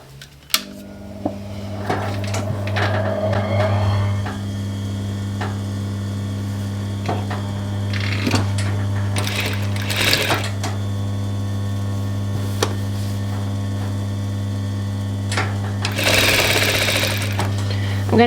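A sewing machine runs steadily while stitching bias binding onto the raw edge of a dress, giving a loud, continuous motor drone with a rhythmic needle chatter and occasional clicks and handling knocks nearby.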